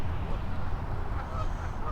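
A goose missing a foot, beside a trout-fishing pond, honks nearby in a short rough burst with no talk over it.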